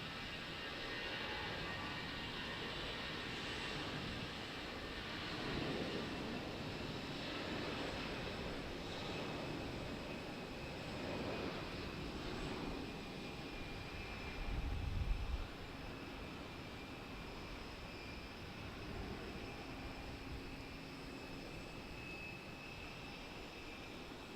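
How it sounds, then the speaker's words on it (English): An American Airlines jet, flight 3361 bound for Miami, takes off from Raleigh-Durham airport; its engines make a faint, distant, steady roar lasting over twenty seconds, swelling slightly midway. "we have American Airlines 3361 taking off to Miami, Florida"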